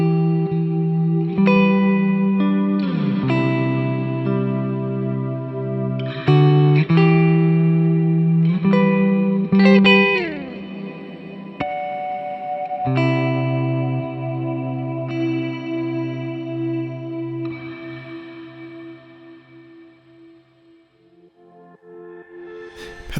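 Electric guitar through a Boss RV-6 reverb pedal, with chords and sliding notes swelling in lush, echoing reverb, then a long shimmering tail that fades toward silence near the end, with no voices.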